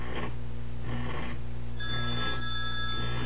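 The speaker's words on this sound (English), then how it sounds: "I got interrupted by a phone call, obviously." A telephone rings with an incoming call, a steady electronic bell-like ring in two close bursts followed by a sustained trill, loud and near over a constant background hum, with no talking.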